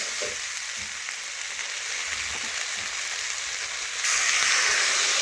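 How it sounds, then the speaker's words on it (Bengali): Pointed gourd, pumpkin and potato fry with spices in a pan, giving a steady, close sizzle that swells louder near the end, with faint scrapes of stirring. "এভাবে নাড়াচাড়া করে আমি বেশ কিছুক্ষণ ধরে কষিয়ে নিচ্ছি, মশলার কাঁচা গন্ধ যাতে চলে যায়।"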